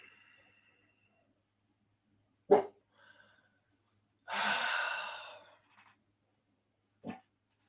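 A dog called Boomer barks a few times in a yard, short sharp calls separated by quiet gaps, with a breathy sigh-like sound among them.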